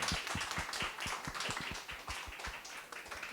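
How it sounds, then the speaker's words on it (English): Audience applause for a team advancing to the next round of the EQT Grand Finale at EYE2023: steady, brisk clapping from a small crowd, sustained throughout at moderate distance, with no voices. "So we can give them a round of applause."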